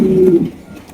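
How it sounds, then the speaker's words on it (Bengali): A single short, low cooing call from a large king pigeon, close and loud, fading quickly. "এখানে আছে এক কিং কবুতর"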